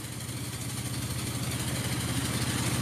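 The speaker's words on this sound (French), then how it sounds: "Alors, c'est pas un tracteur, hein, c'est un... Alors, je sais plus comment s'appelle cette machine. Une coupeuse en gerbe." A vintage sheaf-cutting machine works in a lavender field at harvest time, its engine running steadily up close with a continuous low throbbing idle and mechanical rattle throughout.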